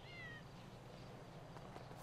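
A cat meows in GTA 5, with high, brief, rising cries near the start over a steady low game background.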